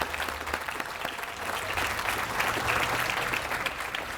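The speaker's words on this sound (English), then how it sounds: "Let's give them a big round of applause." Audience applause at an outdoor garden party, a dense and sustained round of clapping from a crowd, steady throughout and swelling slightly in the middle.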